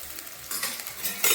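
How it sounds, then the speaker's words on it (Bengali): Onion and ginger-garlic paste fry in a pan over a tempering of dry red chili, whole garam masala and cumin while being stirred, with soft scraping and faint sizzling that swells in short bursts. "পেঁয়াজ আদা রসুনটা ভালো ভাজা হয়ে গেছে"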